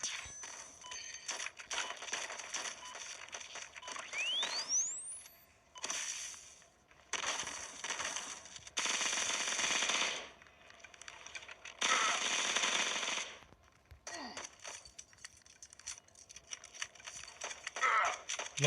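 Bursts of automatic gunfire in an online multiplayer video game, arriving as intermittent loud broadband volleys separated by short pauses, with faint game ambience between them.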